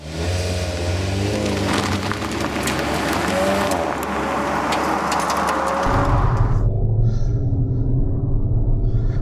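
A 2021 Skoda Octavia RS wagon on the move, its engine and road noise a loud, steady drone with a deeper, heavier rumble taking over partway through as the car pulls harder.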